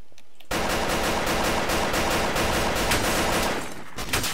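Rapid automatic gunfire from the Garry's Mod video game starts abruptly after a short quiet lead-in, keeps up as a loud, dense barrage for about three seconds, then thins out into scattered shots.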